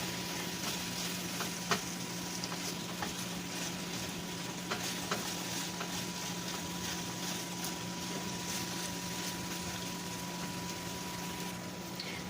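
Ground beef with added spices sizzles and fries steadily in a pan for empanada filling, a constant broadband crackle with occasional louder pops, close and continuous, no talking.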